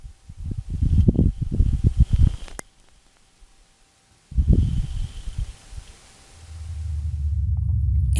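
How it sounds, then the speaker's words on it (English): Wind-driven dust devil on Mars picked up by the Perseverance rover microphones: faint, muffled low gusts swell in two bursts separated by a quiet gap, followed by a steadier low rumble building toward the end. "This is the actual audio of a Martian dust devil."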